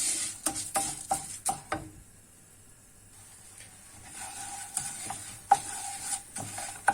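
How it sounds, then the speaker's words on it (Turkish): Orzo pasta toasting in butter in a pan, a soft steady sizzle broken by scraping stirs and light utensil taps against the pan, close and fairly quiet, briefly dipping near-silent midway, with no talk. "içerisine arpa şehriyelerimi koyuyorum ve arpa şehriyelerini kavuruyorum"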